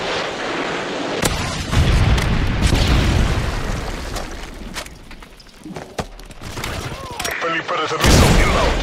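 Predator missile strikes in Modern Warfare 3 multiplayer, heavy booming explosions and rumbling blasts with sharp impacts amid gunfire, loud and dense throughout, with radio-style voice lines in the game.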